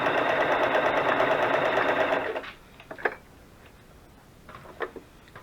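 A sewing machine runs steadily for about two seconds while stitching zigzag or decorative stitches on burlap and lace, then stops, leaving a few faint clicks and small handling sounds.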